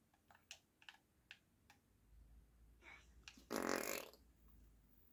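A voice imitates a fart, making one short, loud, raspy burst close to the microphone after a series of faint computer-keyboard clicks from Roblox play.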